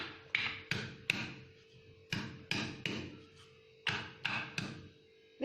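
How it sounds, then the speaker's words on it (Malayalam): Chopped njavara leaves being crushed for a home cough remedy, a series of sharp pounding taps in irregular clusters, close by and fairly quiet, with no talking. "അത് ഇതുപോലെ ചെറുതായിട്ടൊന്ന് കട്ട് ചെയ്ത് ഇത് വെച്ച് ചതച്ചെടുക്കുക."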